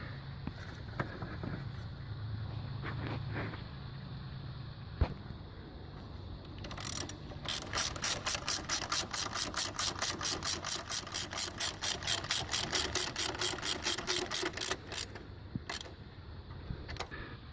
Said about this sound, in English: Tighten the bottom two bolts up.